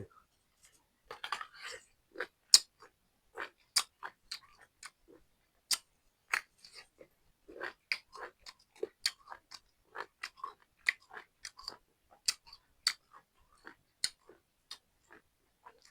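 Someone eats crunchy food up close, with quiet, crisp bites and chewing crunches coming in uneven bursts against an otherwise silent background.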